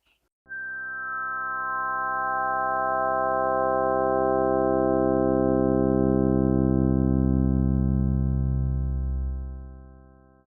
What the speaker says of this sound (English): Example 5 plays just these overtones of a harmonic series descending down from the 24th